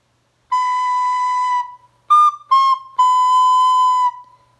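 Four clear, breathy recorder notes play alone, the first long, then two short ones and a final sustained tone.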